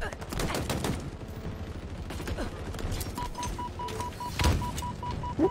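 Bursts of automatic gunfire in a Halo Infinite multiplayer match, with rapid overlapping shots at close range, layered with game sound effects and a brief steady alert tone.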